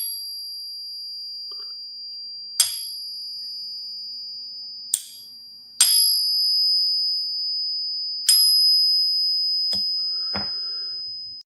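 A Pocket Pinger coin tester rings silver coins, producing a sustained pure high tone that is struck again several times, each sharp tap followed by a long, slowly fading ring.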